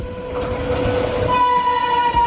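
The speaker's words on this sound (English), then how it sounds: "A freight train designed to carry large containers, typically used for transporting goods over long distances." Container freight train passing close by, a loud steady rail rumble with drawn-out horn tones sounding over it throughout.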